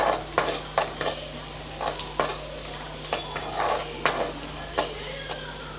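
Onions and torn dried red chillies sizzle in a hot oiled pan while a spoon stirs and scrapes, giving about a dozen sharp metallic clinks over a steady frying hiss, close and without talk.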